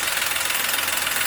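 A Perodua Ativa three-cylinder engine idles close by, with a loud, steady, even throb and a fine knocking pulse.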